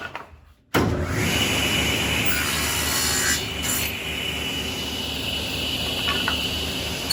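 A table saw with a dado blade and miter gauge starts up after a quiet moment and cuts steadily through wood, a loud sustained whine and rasp that eases slightly partway through.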